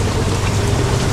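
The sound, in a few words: heavy rain pouring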